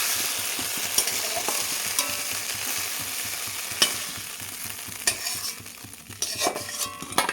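Okra sizzles as it fries in oil in a kadai, with steady crackling and repeated scraping stirs of a utensil against the pan, including a few sharper clinks, close and alone without any voices.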